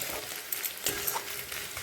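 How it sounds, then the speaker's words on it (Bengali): Sliced snake gourd sizzles softly in a pan while being turned slowly, with a few light scrapes and taps of the spatula and no talking. "এখন এইভাবে ধীরে ধীরে নাড়াচাড়া দিতে হবে একটু পরে পরে, আর ঢাকা দিয়ে দিই, সুন্দর করে ভাজা হয়ে যাবে।"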